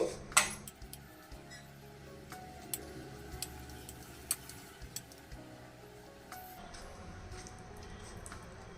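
A spoon mixes fish masala paste of garam masala, lemon juice and oil in a bowl, giving a series of light, scattered clinks and taps against the dish over a quiet, close background.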